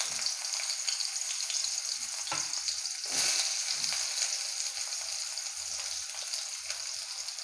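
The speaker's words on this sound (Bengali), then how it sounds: "তেলটা গরম হয়ে গেছে, আমি এখন এর মধ্যে দিয়ে দিচ্ছি পেঁয়াজ কুচি।" Chopped onion fries in hot oil with a steady, bright sizzle that stays close and even, briefly intensifying partway through.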